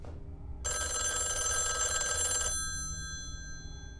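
A telephone in the TV series Loki, Season 2 Episode 4, gives one bright, continuous electronic ring for about two seconds. It sounds over quiet background ambience and then cuts off.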